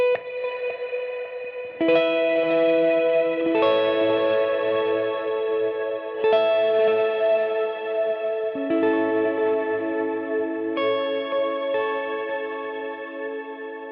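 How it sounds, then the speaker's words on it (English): Electric guitar chords run through reverb and dimension effects on an HX Stomp pedalboard, each strum ringing into a lush, shimmering wash that blooms and sustains before the next, about six changes played alone. "That's just reverb and the dimension."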